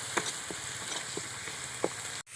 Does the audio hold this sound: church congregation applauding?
no